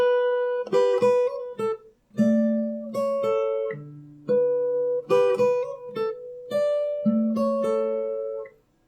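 Fingerstyle acoustic guitar playing a song from Barfi: clear plucked notes and ringing chords in a gentle phrase with brief pauses between groups, close and solo with no talking.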